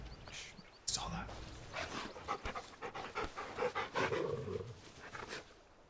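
Dog panting in Final Fantasy XVI, close and steady, mixed with game sounds and talk.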